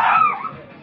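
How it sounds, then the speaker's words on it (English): A single short, sharp dog yip or bark, close and loud, fading quickly into a brief whining tail. "Pay attention to the dogs over there."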